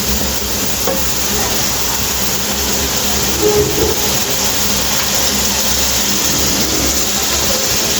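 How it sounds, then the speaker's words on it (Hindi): Tomatoes and dry spices fry in a karahi for chicken karahi, a loud, continuous sizzle and bubbling with stirring scrapes throughout. "टमाटरों की हमने भुनाई करनी है अच्छे तरीके से, इनका अपना पानी खुश्क होना चाहिए"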